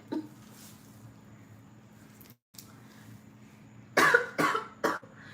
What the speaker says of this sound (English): I had to cough on that